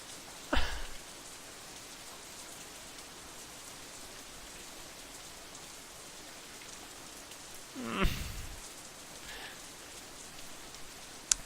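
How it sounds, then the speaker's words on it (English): Steady rain patters on an umbrella in a rainy outdoor scene from the visual novel game Katawa Shoujo, a dense, even hiss with two brief louder bursts, no voices. "Raindrops hitting the umbrella make a distinctive sound, playing the staccato melody of rainfall for nobody in particular."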